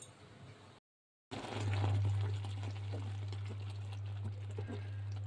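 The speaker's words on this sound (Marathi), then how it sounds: "उकळ आला आहे असा" Water in a pot on the stove coming up to a boil, a steady low rumble with soft bubbling and light splashes rising after a brief gap, fairly close and unbroken by talk.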